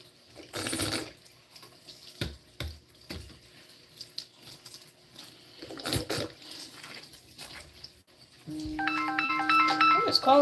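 A phone ringtone starts up for an incoming call, a clear repeating tonal melody near the end, following scattered clatter and running water while a dog is shampooed.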